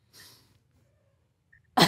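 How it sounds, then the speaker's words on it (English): A single short, sharp sneeze bursts out loudly at the end, following a soft breathy intake and a stretch of near silence. "That's not laughter in the other room. That's a sneeze."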